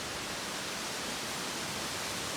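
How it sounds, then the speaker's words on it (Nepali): Shingu waterfall in Japan, a very large cascade, sends out a constant, dense, hissing roar with no breaks, rises or pauses, and no one speaks over it. "ओए यहाँ अर्को झर्ना नि रहेछ त"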